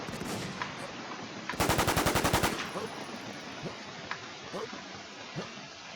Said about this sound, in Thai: โดนยิงหลังว่ะ